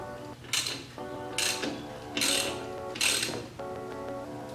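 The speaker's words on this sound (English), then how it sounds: "Loosen the axle bolt." A ratchet loosening a bicycle axle bolt with OTB chain adjusters: four short, loud bursts of rapid clicking at a steady pace, each separated by a brief pause with a faint mechanical hum, close up.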